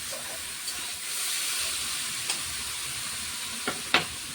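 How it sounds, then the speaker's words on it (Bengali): Mixed vegetables with small prawns frying in a pan, seasoned with coriander powder, giving a steady soft sizzle and hiss with a few isolated clinks of a utensil. "ভালো মতন করে ভেজে নিতে হবে।"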